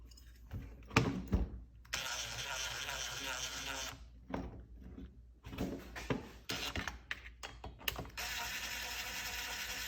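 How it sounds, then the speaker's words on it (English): A ratchet clicks as it tightens the 5mm Allen head bolts at the bottom of a Husqvarna 455 Rancher chainsaw, in several bursts of quick close-up ratcheting separated by pauses. "So just the 4 5mm head Allen bolts at the bottom. And we're gonna go in a"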